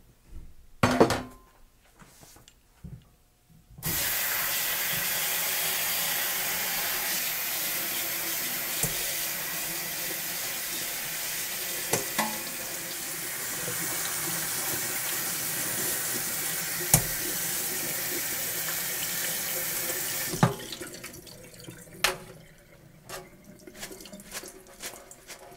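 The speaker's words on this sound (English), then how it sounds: "Let's go ahead and give our mint leaves a good rinse." Mint leaves are rinsed under a running kitchen tap for wine making. A loud, steady rush of water runs close by for about sixteen seconds, broken by small clinks and knocks, with quieter handling clatter before and after.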